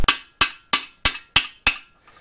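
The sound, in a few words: hammer whacking a valve guide out of a Willys L134 engine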